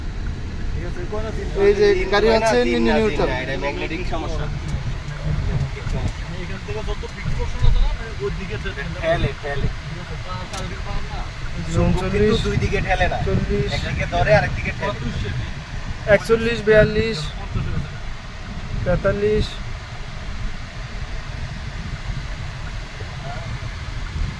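A car climbs a hill road with its speed slowly rising, giving a steady engine and road rumble inside the cabin under people talking throughout.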